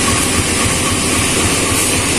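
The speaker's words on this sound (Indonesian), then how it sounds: "Ini pembangkitnya kereta api Sindang Marga yang semalam kita naiki." Diesel generator power car of the Sindang Marga passenger train, idling at Lubuk Linggau station: a loud, steady low engine drone with broadband hum that holds unchanged throughout, with no voices.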